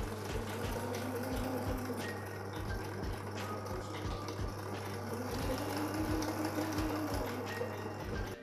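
A sewing machine stitching the side of a fabric bow tie, with a steady motor hum and a fast regular needle thump, up close and continuous throughout.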